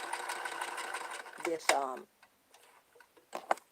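A sewing machine stitches a filter in short bursts, its quick ticking clatter running for about two seconds and then returning briefly near the end, close and fairly quiet. A person speaks during the clip.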